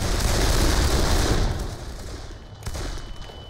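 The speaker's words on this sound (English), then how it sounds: "My ears are ringing from the amount of like gunfire" Gunfire in the video game Darkest of Days: a dense, noisy barrage of shots that is loud at first and then thins out and eases, with no voices.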